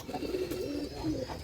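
Pigeons give soft, low, rolling coos in a short burst, close by over a steady background hum.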